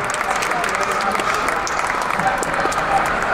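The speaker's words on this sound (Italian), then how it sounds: "Un grande applauso per il giudice delle migliori coppie" Applause for the judge at an international dog show in Turin's Oval Lingotto hall, 2018: sustained, dense crowd clapping at a steady moderate level, with a voice faintly present beneath it.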